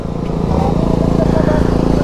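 A motorcycle being ridden, its engine loud and close with a rapid pulsing throb that rises as it speeds up.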